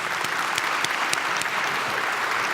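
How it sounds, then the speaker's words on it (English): Audience applause in the hall after an opening plenary session at a conference, a steady, dense clapping that fills the whole clip at an even level with no voices over it. "I'll give them a round of applause."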